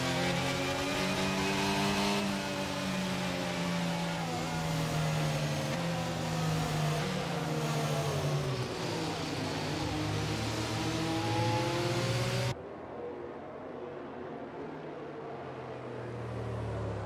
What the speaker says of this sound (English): you guys can enjoy the sweet, sweet sounds of these Formula One cars driving incredibly slow